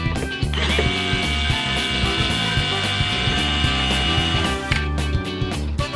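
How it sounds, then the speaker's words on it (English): A small electric screwdriver whirs continuously at close range while undoing the screws of a VW Transporter van wing mirror, a steady high motor whine with light clicking under it and no talk. "My little electric screwdriver."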